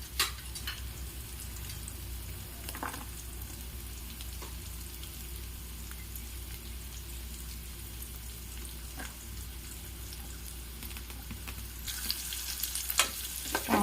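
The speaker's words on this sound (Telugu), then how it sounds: "కాస్త కలుపుకొని క్యారెట్ బాగా ఫ్రై అయ్యాలి" Carrots fry in oil with chana dal and green chillies for upma, giving a continuous crackling sizzle with occasional stirring scrapes, steady and close throughout.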